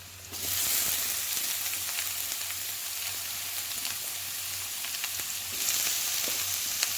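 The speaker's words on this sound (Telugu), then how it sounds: "ఇప్పుడు మనం ఉడికించి పెట్టుకున్న చిక్కుడుకాయలు వేసుకుందాం" Boiled broad beans go into a pan of fried onions and sizzle loudly and steadily, with a brief louder hiss near the start and again toward the end.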